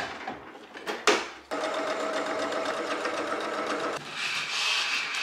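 A sewing machine stitches fabric for a blue dress, folded right sides together: a brief whir, a short pause, then a steady, close, continuous run of rapid stitching.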